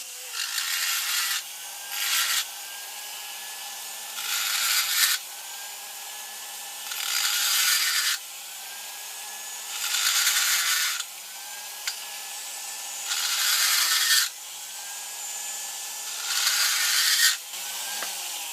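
Dull burr bit in a rotary tool grinding a wooden match plate pattern for a home foundry, a high whining rasp in repeated strokes of about two seconds each, separated by short pauses, close and with no voices.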